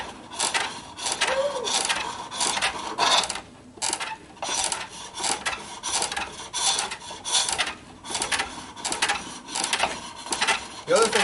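Skew chisel cutting apple wood on a springpole lathe, giving repeated rasping, scraping strokes in an uneven back-and-forth rhythm, close and fairly loud, with brief pauses between cuts.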